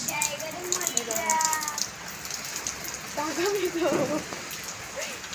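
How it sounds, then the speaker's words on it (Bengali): Rain falls steadily outdoors during a khichuri meal, a constant hiss of drops with scattered patters, while people talk over it. "এই দেখো বৃষ্টিতে বৃষ্টি হচ্ছে"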